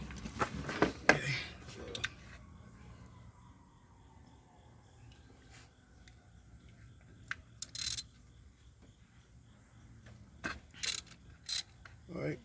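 A ratchet tightens spark plugs on a 2018 Ford Mustang with a 2.3L EcoBoost engine, giving bursts of quick metallic clicks near the start and again toward the end, with quiet pauses between them.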